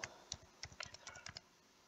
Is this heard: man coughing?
no